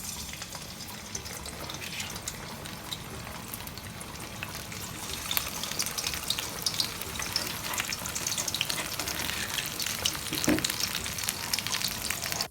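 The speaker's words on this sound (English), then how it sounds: "Then we will begin frying." Plantain pieces for Ghanaian kelewele going into hot oil, a dense crackling sizzle that swells as more pieces are added, close and steady with no talking.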